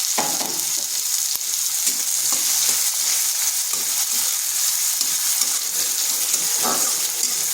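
Chopped large onion dropped into a hot frying pan sizzles loudly and steadily throughout, with faint stirring scrapes and occasional clinks over the constant crackle.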